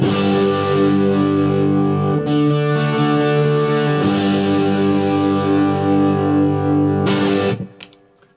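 An electric guitar played through a distortion pedal set to its flame mode, thick sustained fuzzy chords ringing loud, with a couple of chord changes before the sound cuts off and decays near the end.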